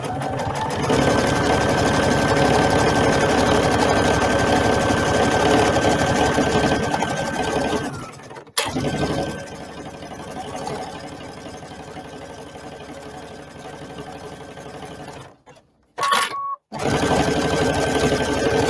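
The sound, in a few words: sewing machine stitching a kid's apron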